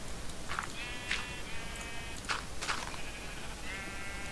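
Sheep bleating in the Minecraft video game, several short nasal bleats spaced across the clip over a steady background hum, fairly clear with no talk.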